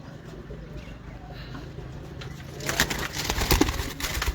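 Champion Lahore pigeons cooing in a loft, soft repeated coos under low background hum, with louder fluttering and rustling bursts toward the end.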